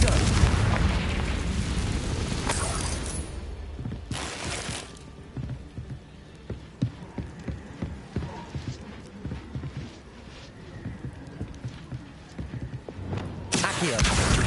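Confringo blasting spell explosions in Hogwarts Legacy, gameplay: a loud opening burst and another around four seconds, followed by scattered thuds and clatter, then a final blast near the end, with some talk in between.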